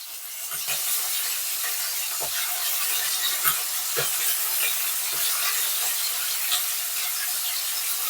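Bhetki fish fries in a pan with a steady bright sizzle and hiss, close and continuous, broken by a few soft scraping knocks as the pieces are flipped.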